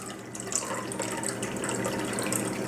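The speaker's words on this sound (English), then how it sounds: "I'm going to pour this very gently because I really don't want the mother in there" Unstrained apple vinegar pickle brine pours gently into a jar, a steady close trickle and gurgle of liquid running continuously without a break.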